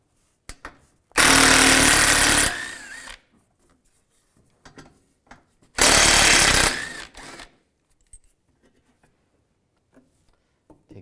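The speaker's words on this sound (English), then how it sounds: "Take these bolts out on both sides, use a 10mm socket." Bolts on a Cadillac Escalade being backed out with a 10mm socket on a power tool during fog light replacement, heard as two loud, close bursts of rattling impact-driver noise, each about two seconds, with small clinks between.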